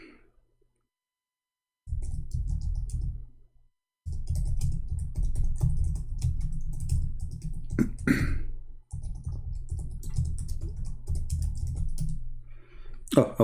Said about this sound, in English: Oh, I was typing in Arabic.